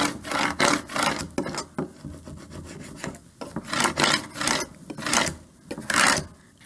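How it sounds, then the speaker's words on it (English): A scraper tool burnishes vinyl lettering through transfer tape onto a wooden welcome sign, giving repeated close rubbing and rasping strokes in uneven bursts, with no talking. "now I can use my scraper tool to burnish it onto the board"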